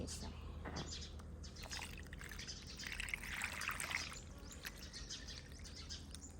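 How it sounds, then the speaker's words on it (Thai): Water is poured from a lifted sponge into a tray of kale and shiitake seedlings, making a soft trickling splash that swells briefly in the middle, faint and close, with quiet background sounds. "จับฟองน้ำขึ้นแล้วก็เท"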